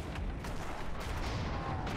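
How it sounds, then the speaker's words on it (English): Bombs dropped from a blimp burst against an enemy ship in a video game, a dense, continuous rumble of blasts with no single clear hit standing out. "Watch these bombs hit."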